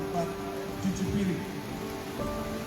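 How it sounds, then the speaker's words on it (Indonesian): Steady rain falls during the funeral of a former Papua governor in Jayapura, a constant wet hiss on surfaces with faint murmuring in the background. "pemakaman mantan Gubernur Papua Lukas NMB yang tadinya akan dilakukan pada pagi hari sempat terkendala hujan"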